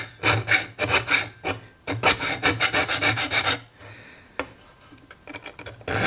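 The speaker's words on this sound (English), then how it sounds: "with these needle files, you can get into most of your small areas" Needle files rasping against a pierced metal spatula in quick bursts of short, bright strokes, close and fairly loud, with brief pauses between runs.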